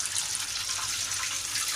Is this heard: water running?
yes